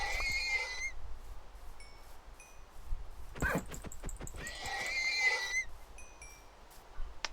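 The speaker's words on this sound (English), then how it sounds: "Horses!" Horses in Minecraft neigh in a few drawn-out whinnying calls, with a burst of clattering or rustling sounds in the middle and quieter background noise between the calls.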